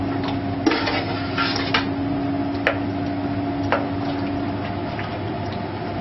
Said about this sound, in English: we'll just continue to stir as it's asking